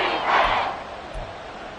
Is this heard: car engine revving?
no